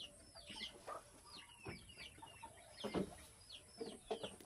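Chickens cluck close by while other birds call and chirp in the background, a scattered series of faint, irregular bursts in an otherwise quiet rural setting.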